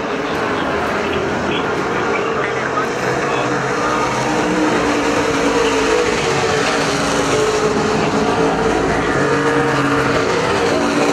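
Super stock race cars roar around the Perris Auto Speedway oval during a main event, a steady loud engine drone under a track announcer's commentary.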